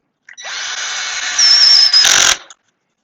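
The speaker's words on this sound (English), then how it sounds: "drive my last screw" A power drill drives the last screw into a small wooden box, a loud, close, steady whine of about two seconds that climbs in pitch and ends in a brief harsh grind as the screw seats.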